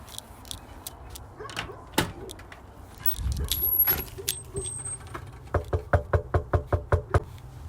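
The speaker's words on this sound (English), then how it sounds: "I'm gonna go and knock on this door" Knocking on the door of an occupied house headed to a tax deed auction: a steady run of about nine close, sharp raps near the end, after scattered clunks and jingles.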